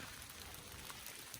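Rain falling steadily on a farm with livestock kept out in the wet, a faint, even hiss throughout with no voices.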